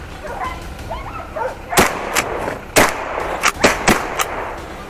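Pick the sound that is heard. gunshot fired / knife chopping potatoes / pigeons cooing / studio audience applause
gunshot fired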